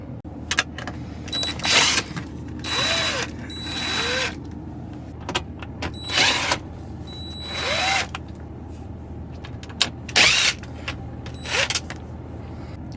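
Power drill loosening the six bolts that hold the radio in a Ford Super Duty dash, several short whirring bursts with pauses between them, close and fairly loud, with no talking.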